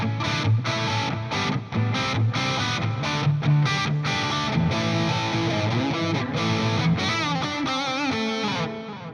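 An electric guitar, a Les Paul, plays through a distorted 5150 amplifier with an Earthquaker Dispatch Master delay and reverb pedal in the effects loop, giving chunky riffs and sustained notes with ambient echo, steady and upfront.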